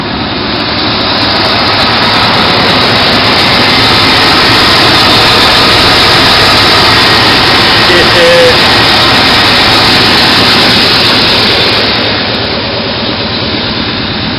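A rebuilt 350 engine idles in neutral after a distributor swap, a steady, loud, even rumble running unbroken for the whole stretch with no talk over it.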